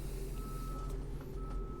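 Construction vehicles outside at night give off reversing beeps, a steady beep repeating twice at a moderate distance over a low rumble of engines.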